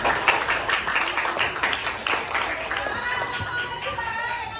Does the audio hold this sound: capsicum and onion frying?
no